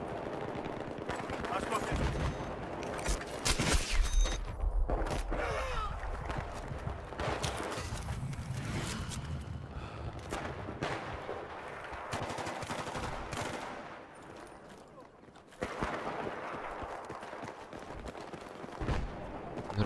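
Battlefield 3 combat brings dense, loud bursts of machine-gun fire and heavy shots that go on almost without a break, with a short lull near the end before the shooting resumes.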